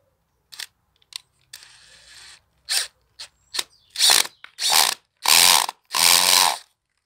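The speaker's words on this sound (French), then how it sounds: "Et maintenant, on visse." Screws being driven into a stone garden decoration: several short whirring bursts, with a longer steady buzz early on and louder, longer runs toward the end, close up and with no talk.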